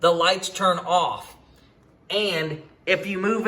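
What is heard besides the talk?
No distinct noise like a dog, phone or traffic.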